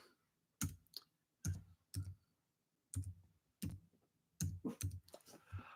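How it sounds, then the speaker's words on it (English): Slow, isolated clicks of keys pressed one at a time with a single finger on a computer keyboard, irregularly spaced with brief pauses and a quicker cluster near the end, recorded close in a quiet room. "Typing with one finger."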